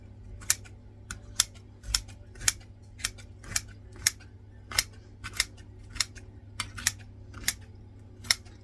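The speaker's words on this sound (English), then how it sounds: "That's what scissors are for." Kitchen scissors snip repeatedly in sharp, crisp cuts, roughly one or two per second, over a low steady hum.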